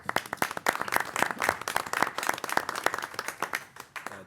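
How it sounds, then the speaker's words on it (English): A round of applause at a village board meeting fills the room, with many hands clapping steadily and unevenly from start to finish, loud and close, with no talk over it. "That's a round of applause not only for you,"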